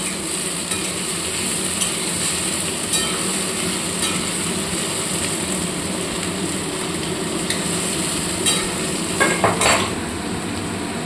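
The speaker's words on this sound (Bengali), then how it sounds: "এবার এটাকে ভাজবো ভালো করে। এর মধ্যে একটু নুন দিয়ে দেবো, তাহলে পেঁয়াজটা তাড়াতাড়ি গলে যাবে।" Onions frying with a pinch of salt in a pan while mutton curry is being made, giving a steady sizzle with occasional stirring and utensil clinks near the end.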